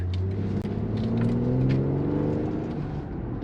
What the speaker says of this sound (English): you definitely hear that 6-cylinder engine much more than the other one